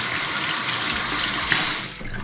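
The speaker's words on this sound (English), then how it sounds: "I did not think that you all wanted to hear water running" Warm water runs steadily from a tap into a sink for hand washing, a continuous close hiss and splash that dips briefly near the end, with no talking.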